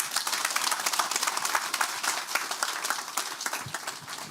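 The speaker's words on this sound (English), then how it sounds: "a round of applause for a great presentation there" A crowd applauds with dense, steady clapping that continues without pause throughout.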